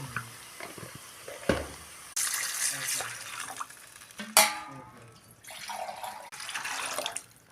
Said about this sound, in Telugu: ఇప్పుడైతే ఎసరు పోస్తాను.